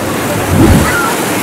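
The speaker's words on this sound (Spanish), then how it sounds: "nunca he visto una ola tan brava como esta" Rough, heavy ocean surf at Totoralillo beach roars steadily as big waves break on the shore, with a broad continuous wash and a swell of louder crashing midway.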